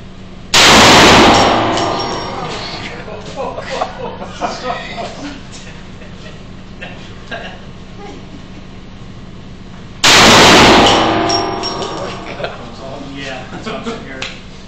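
A Desert Eagle pistol fired upside down at an outdoor range, two loud, close single shots about nine seconds apart, each with a sharp crack and a ringing tail, with people talking between them.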